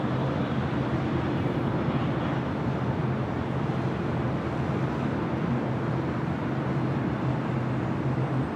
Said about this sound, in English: Next takeoff on the Southside is on the Nippon Airways Flight 5 heading back to Tokyo Narita